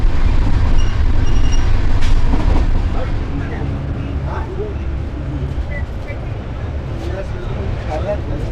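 A moving passenger train on the West Bengal Sampark Kranti Express route rumbles steadily from inside a sleeper coach, with a continuous clattering roll of wheels on rails and occasional knocks.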